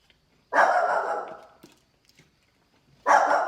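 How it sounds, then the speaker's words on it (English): A neighbor's dog barks twice, a sustained loud bark-howl followed by a second one a few seconds later, heard alone and fairly near in an otherwise quiet room. "The neighbor's dog just barked."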